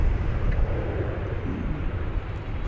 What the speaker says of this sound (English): to bring you the 777 arrival